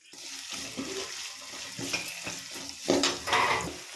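Onions frying in a pan for a Tamil brinjal tamarind curry, a steady close sizzle with stirring scrapes and louder bursts toward the end.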